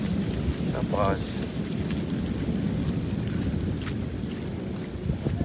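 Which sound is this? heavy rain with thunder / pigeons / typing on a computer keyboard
heavy rain with thunder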